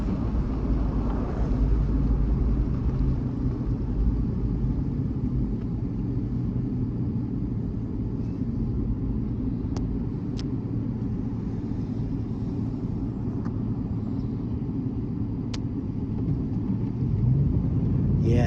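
A truck engine drones steadily while driving through a blizzard on slippery snow, a constant low rumble with faint wind noise and a few brief clicks, and no talking.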